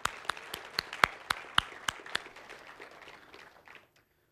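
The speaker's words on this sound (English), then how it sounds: "So let's give them a round of applause." Hands clap in a quick, even rhythm, about nine sharp claps, then fade to a few softer ones.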